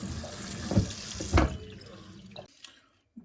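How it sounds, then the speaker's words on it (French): Cold tap water runs over cooked al dente pasta in a kitchen sink, a soft steady splashing stream with a couple of sharper splashes, fading toward the end, fairly quiet. "Une fois les pâtes al dente, on les refroidit sous un jet d'eau froide."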